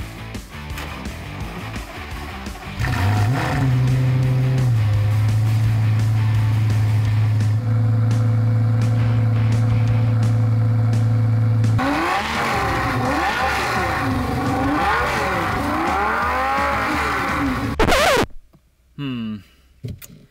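Audi TTS engine starting and revving, a loud sustained drone that rises as the car accelerates, with wavering pitch sweeps from gear changes, ending in abrupt cut-offs and near-silence.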